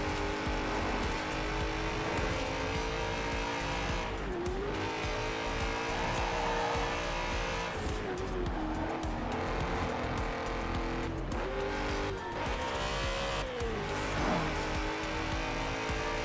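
A lightly tuned BMW M5 races in Forza Horizon 4, its engine roaring continuously and loudly with gear shifts, tyre squeal and skids throughout, and no talking.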